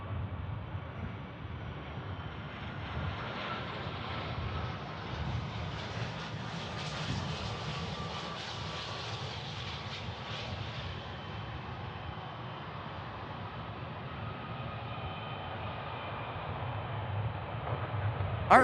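A jet airliner at Memphis International Airport gives a steady, broad roar that swells gradually and then eases over many seconds, heard from a distance with no speech.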